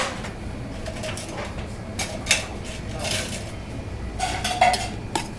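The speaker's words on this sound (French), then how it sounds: "On mélange tout ça." Ingredients are mixed in a bowl in a busy two-star restaurant kitchen, with light clinks and scrapes of utensils against dishware over a constant kitchen hum, close by, with no one speaking.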